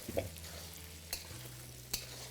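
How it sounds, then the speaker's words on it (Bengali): Potato pieces frying with onion in a pan for a Bengali borboti dry curry, a quiet low sizzle with a few sharp spatula scrapes and knocks, close by, no voices. "এইভাবে আপনাদের ভেজে নিতে হবে আলুটাকে পেঁয়াজের সাথে"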